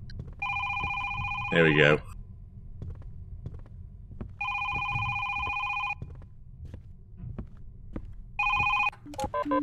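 Phone ringing in the horror game Is Simon There?: a steady electronic ring sounds in three separate bursts, each roughly one to two seconds long, with a brief rising tone after the first and a person talking quietly in between.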